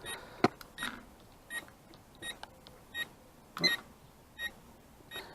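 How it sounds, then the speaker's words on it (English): A Potensic U818A quadcopter transmitter gives a low-battery warning as a series of short electronic beeps, repeating at roughly even intervals of about half a second to a second, heard alone over faint background noise. "So you've got a nice long low battery warning there"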